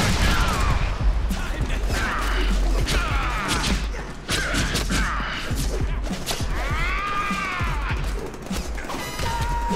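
Gunfire and crashing impacts from the Deadpool video game, dense bursts of shots and smashes over a continuous loud game mix, with voices talking over the action.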